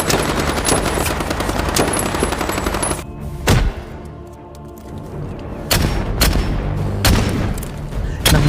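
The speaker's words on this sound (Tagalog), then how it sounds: "Agad nitong inagaw ang baril at pinaputukan ang matabang lalaki." Gunfire erupts in a dramatized action scene as a seized gun is turned on a man, loud rapid bursts of shots and booms, then a brief lull before more sharp single cracks ring out.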